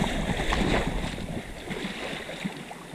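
Choppy waves of about two feet wash and lap along a wild Alaskan shoreline beside a solo canoe, with steady broadband water noise and wind, loudest at the start and easing slightly.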